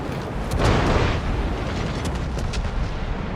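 Naval gunfire from several enemy ships in a Cataluña match of a warship video game, a heavy booming salvo early on, then a steady rumbling barrage continuing throughout.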